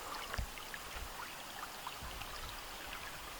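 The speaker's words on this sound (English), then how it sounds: "I can hear more water flowing" Water flows steadily through an Australian gorge lined with pandanus and palms, a faint continuous rushing and trickling with occasional soft splashes, heard from a distance without voices.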